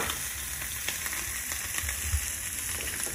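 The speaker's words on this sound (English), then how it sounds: "you cook them relatively high because you want to get that browning on the outside." Scallops searing in a hot pan, a dense, even sizzle that hisses steadily and closely for a few seconds with a faint low rumble beneath and no voices.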